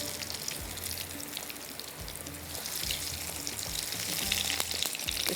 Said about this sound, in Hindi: यहाँ पर हमारे नगेट्स भी फ्राई हो रहे हैं